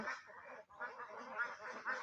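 Peking ducks on a farm in Comilla quack together in a busy, overlapping chorus, nasal calls crowding each other with only a brief pause in the din.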